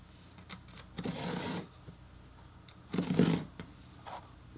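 A knife makes a cut in leather for a playing card case in small repeated passes, two distinct close scraping strokes about two seconds apart with faint handling noise between.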